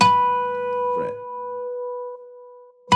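A plucked B harmonic on the sixth string of a 12-string guitar rings out clear and bell-like, sustaining steadily for a few seconds with a soft muted touch partway through.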